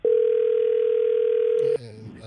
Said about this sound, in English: Let me call Kim, Froggy's wife.